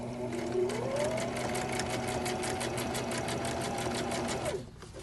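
Domestic sewing machine running a continuous zigzag stitch to gather fabric, a steady rapid needle rattle with rising motor whine that stops abruptly near the end, close and alone.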